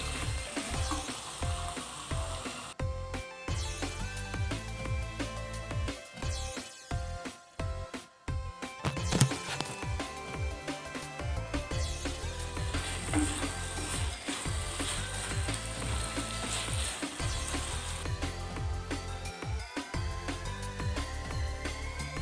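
Cauliflower masala frying dry in a pan, a steady close sizzle with occasional scraping and stirring clatter running throughout.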